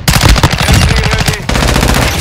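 Rapid, loud automatic machine gun bursts in Call of Duty: Modern Warfare II, a continuous rattling stream of close shots with a brief break near the middle before firing resumes.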